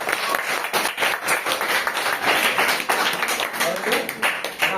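A classroom of young children at a quiz show applauds loudly, steady dense clapping for about five seconds, with children's voices and noise mixed throughout.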